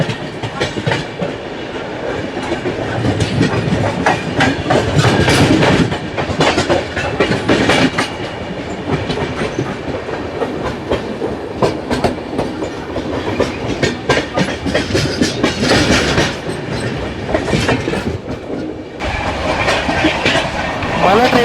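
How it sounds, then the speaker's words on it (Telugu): The 12655 Navjeevan Superfast Express, running between Ahmedabad Junction and Chennai Central, clatters past at close range, with loud rhythmic wheel clicks and rail rumble sustained throughout and no voices. "12655 Navjivan super fast express Ahmedabad junction Chennai central Navjivan super fast"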